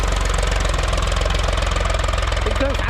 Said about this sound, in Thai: ตัวนี้เป็นเครื่องสามสูบ